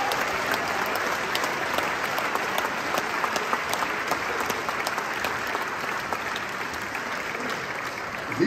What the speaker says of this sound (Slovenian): En aplavz za Gorenjce.